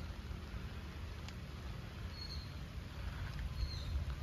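Steady rain falls outdoors among potted kumquat trees in Tứ Liên, a constant soft patter and hiss lasting throughout with no voices.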